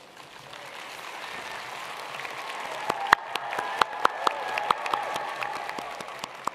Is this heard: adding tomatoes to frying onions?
no